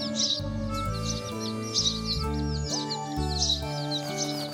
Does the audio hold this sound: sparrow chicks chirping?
yes